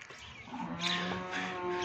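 A cross-breed heifer lets out one long, fairly close moo that rises and holds steady to the end, with no voices over it.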